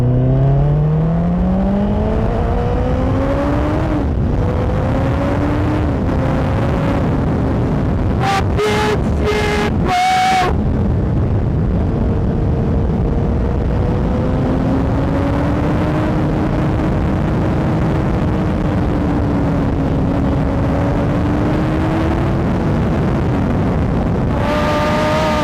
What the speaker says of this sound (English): this is for the first time I'm riding this CBR1000rr.